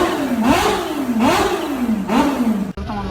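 A scooter engine revs up and down in several rising and falling surges, loud and close, before cutting off abruptly near the end.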